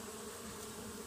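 Bees give off a faint, steady buzzing hum among flowers, with no other sound over it.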